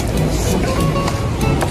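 Rain falling outdoors on a street, a steady dense wash of noise with a person speaking over it close by.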